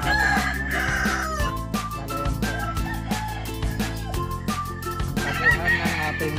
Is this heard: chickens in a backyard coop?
yes